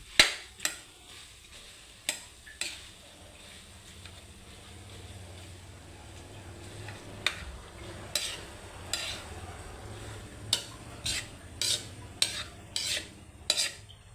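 Rice is stirred and mixed in a pan, with scattered utensil scrapes and clinks that grow busier and more rhythmic toward the end over a low background hum; no talking.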